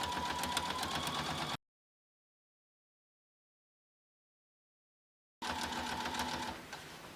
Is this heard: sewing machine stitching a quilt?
yes